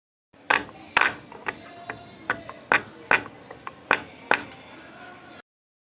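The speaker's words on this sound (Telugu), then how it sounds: "ఇప్పుడు ఇలాచీ, దాల్చిన చెక్క, లవంగాని ఒకసారి దంచుకుంటాము" Cardamom, cinnamon and cloves are pounded by hand, giving about ten sharp, evenly spaced thuds one after another, close by and clear against a quiet background.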